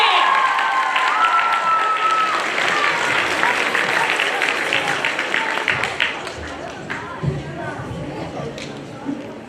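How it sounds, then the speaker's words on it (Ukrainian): Audience applause and cheering for a vocal-instrumental music ensemble on a concert stage, dense sustained clapping from a large crowd that gradually thins and fades toward the end. "Оплески!"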